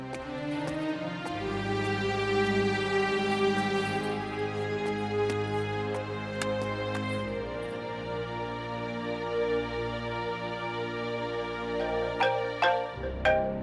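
A mobile phone rings with a repeating electronic melodic tone, loud and steady, playing alone without voices for several seconds.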